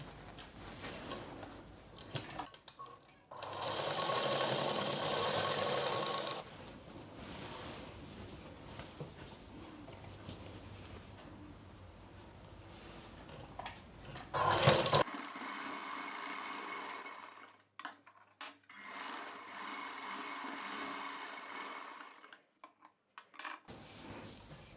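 A sewing machine runs in bursts while stitching a boat neck blouse, its whirring motor and rapid needle ticking steady through each run, broken by short pauses between seams.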